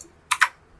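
Two quick keystrokes on a computer keyboard, close and crisp, then quiet.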